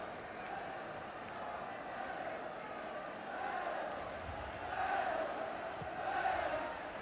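A 17,000-strong football crowd at a Wales v England match roars and swells in the distance. The noise builds toward the end, with commentary talk faint beneath it.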